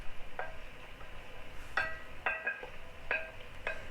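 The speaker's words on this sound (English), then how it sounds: "let's go ahead and dump those vegetables in" Chopped onions, celery and carrots sweat in a pot with bacon bits under a faint sizzle, while a utensil clinks against the metal several times in an irregular rhythm.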